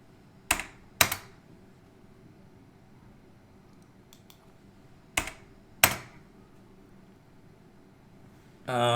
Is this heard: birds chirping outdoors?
no